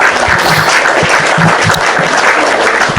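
Loud, dense applause from a live audience at an Indonesian religious debate or talk event, a continuous close roar of many hands clapping at an even intensity with no talk over it.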